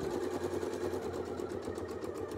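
A domestic sewing machine double-stitches a quilt, running in a fast, even, continuous whir throughout at close range with no talk.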